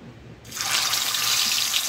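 Marinated surmai fish pieces dropped into hot oil, a sudden loud hissing sizzle that bursts in after a brief quiet moment and keeps crackling steadily up close.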